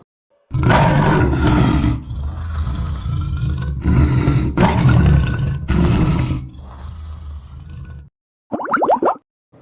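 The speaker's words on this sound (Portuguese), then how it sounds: "Leão." A lion roars in long, loud, close bursts that rise and fall over several seconds, followed after a short gap by a brief, higher-pitched call.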